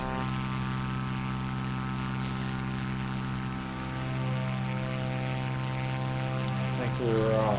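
Propeller aircraft engine in Microsoft Flight Simulator 2024 holding a loud, steady drone on a very short runway at takeoff, its tone rising and shifting near the end.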